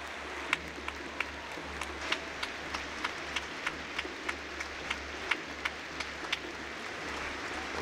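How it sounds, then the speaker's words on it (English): Sparse, scattered clapping from an outdoor crowd at a Remembrance Day ceremony in Saskatoon, with sharp individual claps standing out over a low steady rumble, moderately distant and fairly faint. "Raucous applause for all of the ladies and gentlemen"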